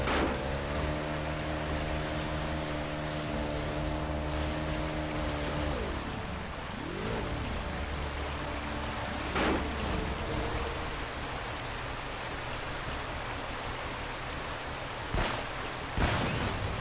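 Boat engine on water in the video game Uncharted: Drake's Fortune, a steady droning motor hum over splashing water whose pitch drops and wavers, followed by rushing water and a couple of sharp thuds.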